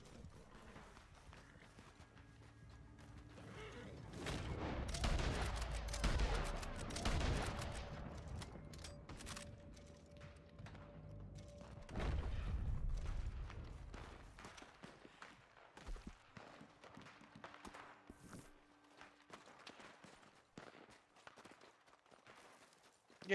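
Rapid gunfire in the video game Red Dead Online during a wagon robbery, volleys of shots mixed with galloping hooves, heaviest midway, then scattered shots thinning out.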